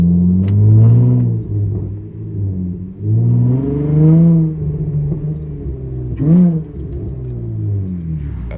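A car driven with its engine running, seen from the driver's seat with a custom steering wheel, pulling hard in loud rising and falling revs across several surges, close and rumbling with no talk.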